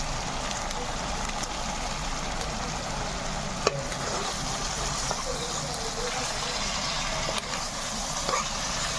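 Mutton with garam masala and red chili stirred and frying in a pan, a steady close sizzle with faint scraping throughout, a few sharp clicks of the spoon against the metal.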